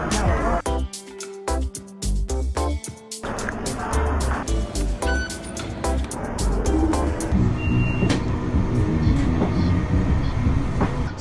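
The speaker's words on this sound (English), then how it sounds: "So we are on the train now heading north" Underground metro ride in Shenyang, China, with rail clatter and rumble, a string of sharp repeated electronic beeps and chimes early on, then steady rolling train noise with scattered announcements and voices.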